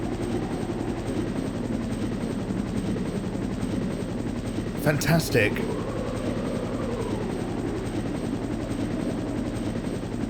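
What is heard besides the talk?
helicopter in a video game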